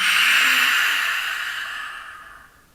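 A single long, breathy exhale during a Lu Jong therapeutic yoga exercise, close and airy, fading gradually over a few seconds into quiet.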